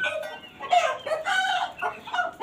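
Several chickens, Aseel fighting birds, clucking and squawking close by in a busy, agitated chorus, with overlapping calls rising and falling without pause.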